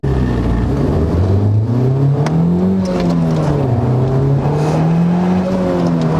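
A turbocharged 2018 Honda Civic Type R engine drones loudly and close, its pitch climbing and dipping as it revs up and eases off through gear changes.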